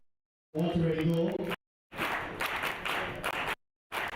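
Applause from the audience at an entrepreneurship and economic summit comes in several bursts separated by short silences, and a voice talks over the first burst.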